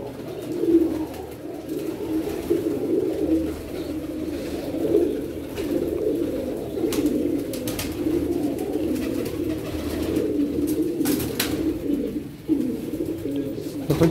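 Pigeons coo continuously in a paired-pigeon coop in the morning, a low steady murmur of overlapping cooing with faint chirps and rustling around them.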